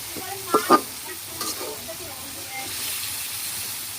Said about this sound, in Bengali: তোমাদের গোস্ত ভাজা হচ্ছে দেখেন